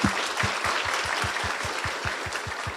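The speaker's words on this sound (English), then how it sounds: "Would you please give them a round of applause?" An audience applauds a panel on American philanthropy at a morning event, with a brisk burst of clapping from a crowd that includes some distinct, rhythmic near claps, gradually easing off.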